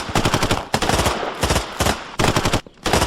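Suppressive gunfire rattles in rapid automatic bursts, four or five separate volleys of sharp repeated shots with brief gaps between them, loud and close in a combat scene.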